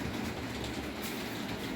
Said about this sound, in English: So we'll wait for the train to come.